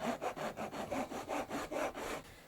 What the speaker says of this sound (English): scratch myself a line into this fretboard, just like so.